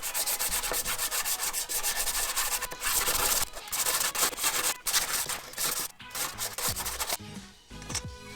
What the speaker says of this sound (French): on va venir frotter notre pièce histoire de la poncer un maximum et qu'il n'y ait plus du tout de peinture